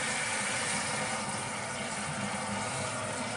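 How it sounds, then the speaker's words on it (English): Cold water runs steadily from a kitchen tap into a sink while macaroni salad is being made, giving a continuous, even hiss of flowing water with no pauses. "we're going to turn on a little bit of cold water"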